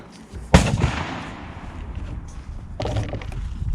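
A single sharp 9mm pistol shot fired at an outdoor shooting range while a Romeo 5 red dot sight is being sighted in, followed by a fainter second report about two seconds later, with ambient range noise between.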